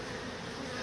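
Honey bees buzzing inside a tree beehive that seems to lack a queen, a dense continuous hum close by, steady and loud with no pauses.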